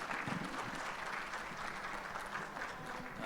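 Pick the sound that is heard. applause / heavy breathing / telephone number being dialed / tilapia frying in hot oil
applause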